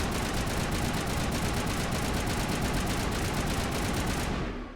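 Rapid, steady automatic gunfire from a video game, a loud continuous stream of close shots that runs for several seconds and then cuts off abruptly, with no talking.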